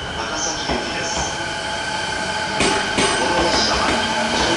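A Takasaki Line through rapid train runs at Fujisawa station at night, its loud rolling rumble steady under clattering wheel clicks and brief squeals, close and continuous throughout.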